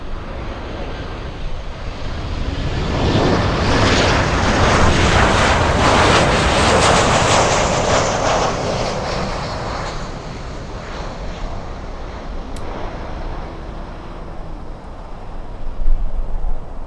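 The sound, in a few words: aircraft passing at Miami airport, likely a Boeing 747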